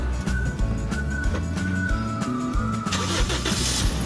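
Black metallic 2013 second-generation Toyota Vios engine cranking and catching, then settling into a steady mid-pitched idle with a faint whine, close and clear without talk.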